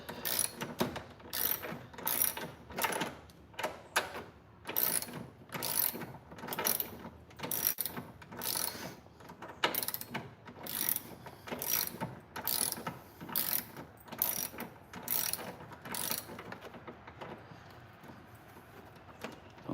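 A hand ratchet clicks in quick repeated bursts, close by, while long-threaded bolts are loosened during a car radiator replacement, with short pauses between the strokes.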